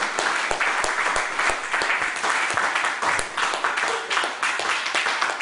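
A church congregation claps and applauds in worship, a dense, steady wash of hands with sharper individual claps standing out, fairly loud and close throughout.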